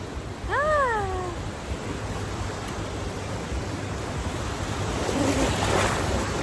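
Surf breaking at Fort Lauderdale Beach, Florida, a steady broadband wash of waves with swells growing near the end; early on, a brief cat-like meow or whistled call rises over the noise, and no one speaks.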